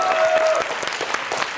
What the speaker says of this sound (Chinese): 掌声鼓励鼓励